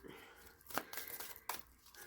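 A deck of oracle cards made of sturdy cardstock being shuffled by hand, with crisp papery riffles and two sharper snaps standing out, close and fairly quiet with no talking.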